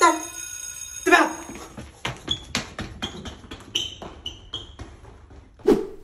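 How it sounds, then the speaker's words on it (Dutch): A school bell rings briefly at the start with bright sustained tones, followed by a series of sharp taps and clattering knocks in a classroom setting. "De bel."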